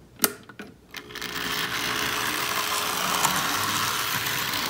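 An old Bachmann model locomotive with drive on only its rear two axles runs along the track. A couple of sharp clicks at the start give way to a steady, close whirring motor hum that holds smoothly to the end.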